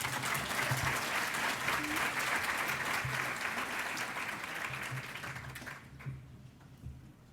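Audience at the Innovators Ceremony applauds steadily, a dense wash of clapping that holds for about six seconds and then thins out, with a few scattered claps and faint voices at the end.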